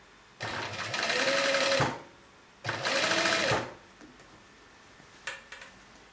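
A sewing machine stitches bias tape around a garment neckline in two sustained whirring runs of about a second and a half each, close and fairly loud, separated by a pause, followed by a few faint clicks.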